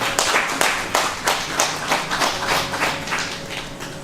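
A congregation at a funeral service claps in steady, rhythmic unison, a quick regular beat of many hands close by and reverberant, with no talking.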